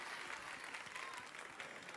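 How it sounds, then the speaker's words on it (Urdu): A studio audience at a Ramzan iftar transmission on Tv One breaks into applause, a dense continuous wash of many hands clapping at once, steady and fairly loud. "بہت ساری تالیاں جی ہو،"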